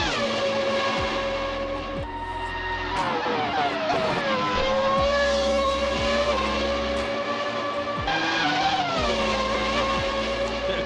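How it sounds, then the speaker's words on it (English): Screaming Ferrari F2004 Formula 1 V10 engine in the Assetto Corsa racing game, lapping Monza's 1988 layout through the Lesmo corners toward the Parabolica, holding high revs with brief gearshift dips and a loud, close, sustained howl with no talk. "listen to that engine."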